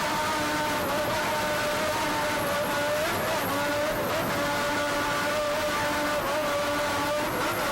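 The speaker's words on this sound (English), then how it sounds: "Lamborghini power, just listen to it." Lamborghini-powered racing powerboat at an offshore race in Key West, its engine a loud, sustained high-revving roar with rising and falling harmonic whine that carries continuously.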